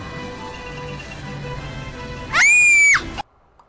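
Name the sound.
Party City Terrifier 2 animatronic screaming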